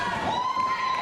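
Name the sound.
wrestling crowd cheering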